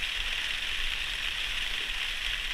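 Steady rain falls on a wilderness shelter in the Temagami bush, a constant even hiss that stays unchanged throughout with no voices.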